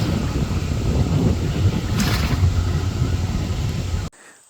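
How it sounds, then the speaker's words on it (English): Strong wind buffets the microphone outdoors beside the Ohio River at an off-grid campsite, a loud continuous low rumble and roar that cuts off abruptly near the end. "I don't know whether you can hear me with this wind."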